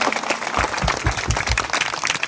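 A congregation at a Christian wedding claps together, loud fairly rhythmic claps in a quick run over a busy background of voices and room noise.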